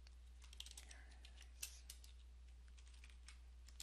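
Password typed on a computer keyboard at an office desk, a quiet run of light, irregular key clicks with one sharper tap, steady low hum underneath.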